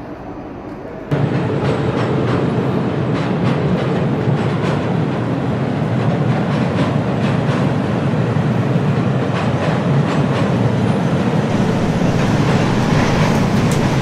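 Fast double-decker passenger train between Mashhad and Tehran, heard from inside as a loud steady rumble with repeated wheel clicks on the rails, beginning suddenly after a quiet second and continuing without talk.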